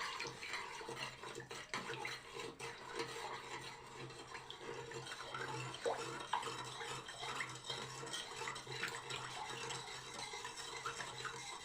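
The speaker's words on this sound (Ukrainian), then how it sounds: "Знову розчиняємо 2 столових ложки солі." A spoon stirs two tablespoons of salt into water to make a brine for sauerkraut, with steady clinking and swishing scrapes running throughout, close by and moderately loud.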